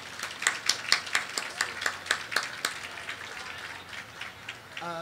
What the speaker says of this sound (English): A round of applause, maybe.